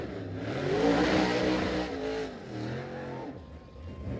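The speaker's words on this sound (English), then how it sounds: "And some burnouts to go with it as well." A late model race car does burnouts at a dirt speedway. The engine revs loudly and rises and falls in pitch, wailing close by with a rough roar.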